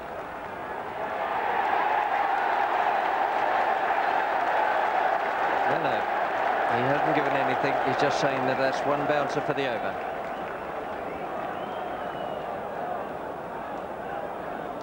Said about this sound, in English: The crowd roared as soon as he put up the one finger